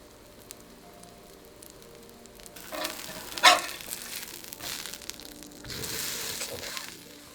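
Snow goose bratwurst fries in a pan with a soft steady sizzle, swelling louder in the middle and again near the end, with a brief crackle.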